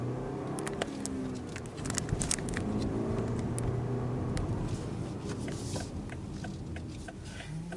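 A 2018 BMW X3 30i driving at low city speed around 20 mph, engine hum and gear shifts under steady road and tire noise, with a few light clicks and rattles inside the cabin.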